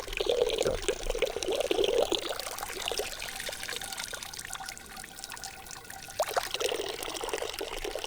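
Water pours steadily from a Roman nasone drinking fountain in a park, a continuous splashing trickle heard close by, with faint surrounding outdoor ambience.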